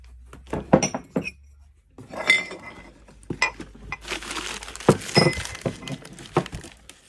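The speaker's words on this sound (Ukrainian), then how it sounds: "комплект посуду" Dishes clink and clatter nearby as pieces are picked up and set down, with scattered sharp knocks and a busier rattle toward the end.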